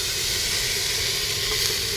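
Water poured into a hot pot of vegetarian khichuri with rice and dal sets off a loud, steady hiss of steam that holds constant throughout, close and unbroken.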